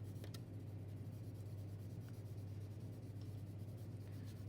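Soft steady scratch of a coloured pencil or crayon shading back and forth on paper with a sheet underneath, faint and close over a low constant hum.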